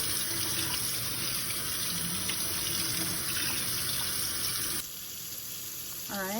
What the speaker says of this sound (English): Rinsing it now so I can put the next tuna, so there's no pieces of the other tuna.